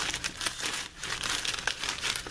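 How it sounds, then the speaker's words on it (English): Paper towel crumpled and rubbed to dry a rinsed test tube during a chemistry precipitation lab, a steady close crinkling rustle over about two seconds with no talk. "Now, you get a paper towel"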